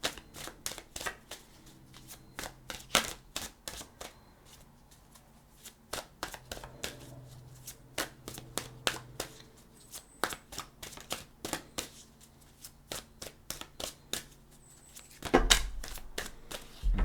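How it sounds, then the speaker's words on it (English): Mother Mary Oracle cards being shuffled by hand, a quiet, close series of crisp riffling and slapping bursts with short pauses between them. "Let's give them a shuffle."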